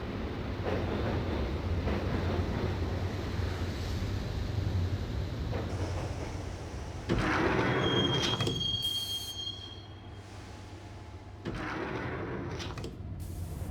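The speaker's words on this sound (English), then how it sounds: "the train doors had already shut behind me, and I was in for the ride" Subway train in the Max Payne video game rumbling along the rails, with a loud metallic squeal of the wheels partway through over the steady low roar of the ride.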